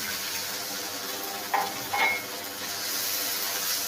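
Water is added to a hot pan holding a khoya and sugar mixture, giving a steady close hiss with two short sizzling splashes about half a second apart.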